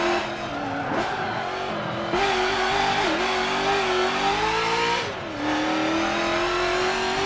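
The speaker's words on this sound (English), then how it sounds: "Just listen to that engine, it wants to shout." A race car engine revs hard in the video game Forza 7, loud and close, its pitch climbing through gears with brief dips at shifts, alone without talk.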